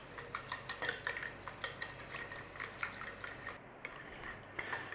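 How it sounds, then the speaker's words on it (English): A spoon gently stirs sandwich ingredients in a bowl, a soft rhythmic series of light scrapes and clinks, close and quiet, with a brief pause near the end. "Just give that a little gentle stir"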